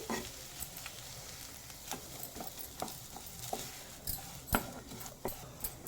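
Potato masala for aloo paratha stirred in a hot pan, sizzling softly underneath while a spatula taps and scrapes at irregular intervals, quiet and close.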